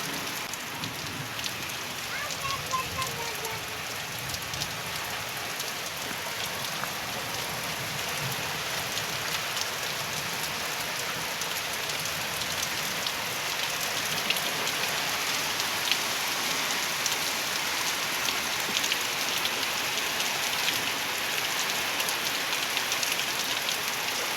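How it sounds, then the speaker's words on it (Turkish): A dense, continuous roar of heavy rain in a storm pounding on surfaces in a village, steady and unbroken throughout, with no voices. "yağmur fırtına bayağı bir çıktı"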